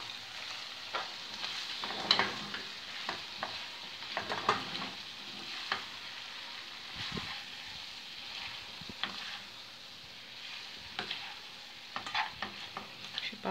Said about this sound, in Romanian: Amestecăm.